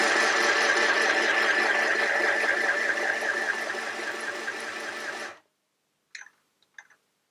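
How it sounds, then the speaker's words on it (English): An Ambiano mini sewing machine winds thread onto a bobbin with a steady, close motor whir for about five seconds, then stops abruptly, followed by a couple of faint clicks. "I'm just holding the thread with my other finger just to help the thread wind evenly onto the bobbin there."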